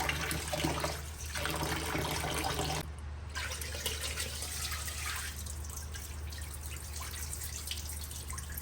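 Tap water runs steadily while rice is rinsed and drained, a constant close splashing stream with brief shifts in flow and no talking.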